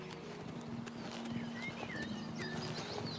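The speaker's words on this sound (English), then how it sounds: "Horse." Horse hooves clip-clop steadily in the video game Oblivion Remastered, a soft walking rhythm of repeated hoof falls over a constant ambient bed with occasional bird-like chirps.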